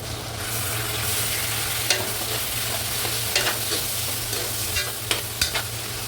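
Chicken frying and being stirred in a pan for Filipino pancit chami, a steady close sizzle with occasional scraping and clinking of a utensil, no voices.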